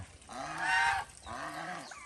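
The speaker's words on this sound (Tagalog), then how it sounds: "Kasi yung mga ganso natin." Backyard farm geese honk in two loud, drawn-out calls with a short pause between, fairly close and with no talking.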